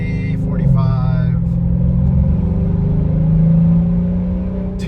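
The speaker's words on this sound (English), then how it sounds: "the exhaust sounds so good now" A tuned Mercedes SL550 R231 accelerates from roughly 40 to 45 mph with a loud, continuous low exhaust drone heard from inside the car. A brief tonal chime sounds near the start.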